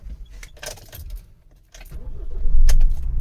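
Keys jangle, then the engine of a 2019 Ford Transit Custom camper van fitted with a Starline immobiliser cranks and catches, ending in a loud, close rumble.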